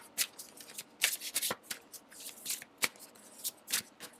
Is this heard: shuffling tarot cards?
yes